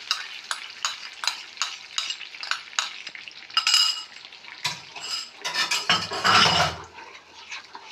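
A spoon scrapes and stirs in a pan as flour mixed in milk is poured into melted butter for white sauce, rhythmic clinks, then a loud sizzle and bubbling as the liquid hits the hot pan.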